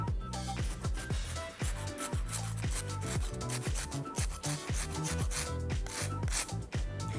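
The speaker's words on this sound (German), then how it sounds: "kannst du auch gerne ein bisschen Zimt einfach nehmen, frischen, und ein bisschen drüber reiben" Fresh cinnamon stick being grated over a cold brew cashew shake, a steady close scraping rub in quick repeated strokes, fairly quiet and alone.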